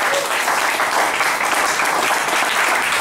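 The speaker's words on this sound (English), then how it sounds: "Round of applause." A round of audience applause at a tech networking event, thick continuous clapping that holds at a steady, fairly loud level for the whole stretch.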